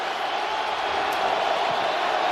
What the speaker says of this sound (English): You hear the crowd noise for the Rams while they're on offense.